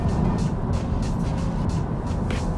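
Steady low road and tire rumble inside a 2022 Honda Civic Sedan cruising at 60 mph, a continuous even drone with a faint airy hiss above it and no talking.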